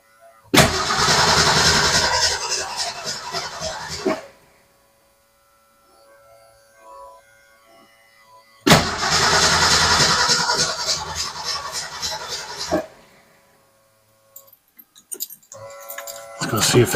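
Car engine cranking in two long loud bursts of about four seconds each, separated by near silence, followed by sputtering catches as it tries to fire while a fuel pump problem is sorted out.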